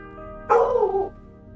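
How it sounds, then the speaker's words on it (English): A single dog bark in a home, one short, loud bow-wow close by, rising abruptly and fading within about half a second over a faint background hum. "And my dog starts barking."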